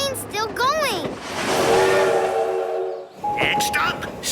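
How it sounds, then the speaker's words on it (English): A cartoon train rolls along its track with a sustained rumbling clatter, bracketed by bright, whistle-like tones that sound near and fairly loud. "The train's still going."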